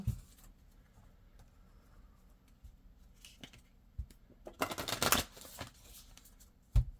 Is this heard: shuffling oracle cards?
yes